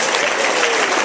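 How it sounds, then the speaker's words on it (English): An audience at a dinner applauds, with dense, steady clapping that fills the short moment at close range. "yeah, clap. All right, that's fine. You can clap."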